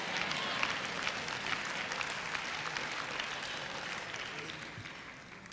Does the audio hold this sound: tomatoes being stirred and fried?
no